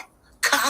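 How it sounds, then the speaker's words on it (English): A single dry cough from a woman during a livestream, a short raspy burst that comes after a brief quiet moment, alone and close. "She coughed as she said cough."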